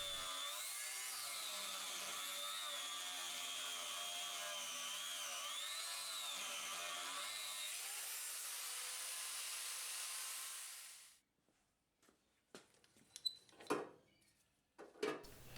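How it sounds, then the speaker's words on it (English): A hobby metal lathe takes the corners off a square metal rod in a steady, close whine with wavering tones for about eleven seconds, then stops, leaving scattered clicks and small knocks. "I'm just going to cut the corners off the square to give it a bit of a head start"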